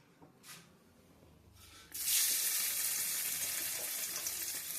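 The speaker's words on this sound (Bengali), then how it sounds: "পনিরগুলোকে একটু লঙ্কার গুঁড়ো আর নুন দিয়ে মাখিয়ে রেখেছিলাম তো এইটা এগুলোকে একটুখানি ভাজবো হালকা করে" Paneer cubes coated with chili powder and salt hit a hot pan, and a sudden broad sizzle starts about two seconds in, staying steady and fairly close until the end with no talking.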